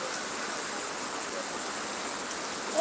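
Rainwater flows and pours steadily during a Baisakhi storm, a dense, continuous rushing wash close by, loud and unbroken for the whole stretch, with no talking.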